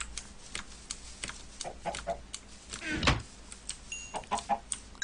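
Chickens cluck in the Minecraft video game, several short, moderately loud clucks scattered over a quiet in-game background with no speech.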